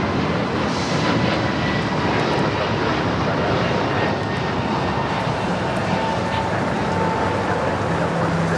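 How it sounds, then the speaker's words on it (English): A Lufthansa Boeing 747-8 lands at LAX, its loud, broad jet roar holding steady throughout as the big airliner passes nearby. "it's back-to-back 747-8 arrivals. Lufthansa, number 2 for arrival there on the north side."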